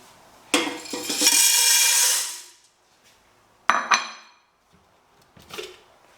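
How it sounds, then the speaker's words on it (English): Dry beans pour into a metal cooking pot for feijão, a loud rattling, hissing cascade lasting about two seconds, followed by a few sharp clinks and knocks of the pot, with no talking. "Here we'll add our beans."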